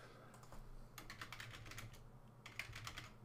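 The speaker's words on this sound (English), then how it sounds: "So let's type something in on the second window, and that comes over here." Keystrokes tapped out on a computer keyboard while entering chat messages, a quick run of close, light clicks in bursts with short pauses, fairly quiet and with no talking.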